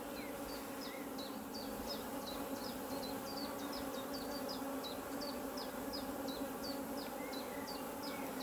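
Honey bees hum steadily around an open hive during queen-cell splits, a dense continuous drone with many small wing-buzz flickers, close and alone without talk.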